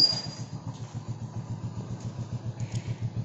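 A motorcycle idles on a dark, empty city street at night in Guwahati during a curfew. Its engine putters in a steady low rhythm, close and continuous, with no voices.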